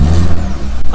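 A turbocharged Audi A3 1.8T engine, recently fixed after a boost fault, revs briefly with a loud, close, rising whir and a dip near the end of a short burst.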